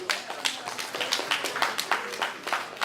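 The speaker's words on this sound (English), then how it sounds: "Ladies and gentlemen, a round of applause for Mr." An audience applauds an award presenter at a dedication award ceremony, with a moderate round of clapping that carries rhythmic, evenly spaced claps and keeps going throughout.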